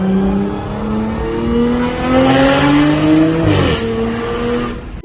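An Audi S5 with a full AWE touring exhaust and an APR tune revs loudly and close by. The engine climbs through several rising pulls, drops sharply, then climbs again. No talking is heard.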